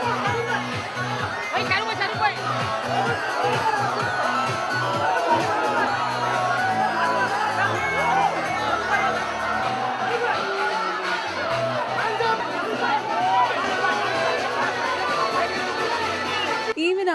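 A large, dense crowd of fans packs a cinema outside Gaiety Galaxy, a loud continuous roar of chatter, shouts and occasional whoops sustained throughout.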